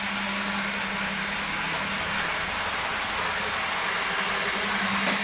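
An N gauge model train runs steadily on layout track, a continuous close whirring and rumbling roll of a Class 321 unit with no talk over it.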